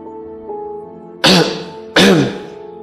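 Two loud, harsh coughs close by, one after the other, following a quieter stretch with a faint hum.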